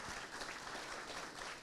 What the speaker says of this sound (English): How about a nice round of applause for Bobby?